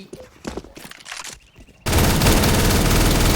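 Counter-Strike: Global Offensive gunfire: scattered footsteps and small clicks, then a sudden loud, continuous burst of rapid automatic fire that holds steady to the end.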